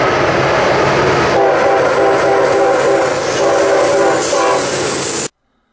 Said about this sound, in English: He gave me a quick horn honk as he came by